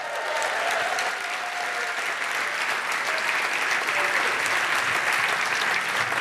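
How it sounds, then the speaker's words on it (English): A large audience applauds steadily in the Great Hall during a university chancellor's installation ceremony. The clapping is dense and sustained, filling the reverberant room from start to finish. "Can I get a round of applause?"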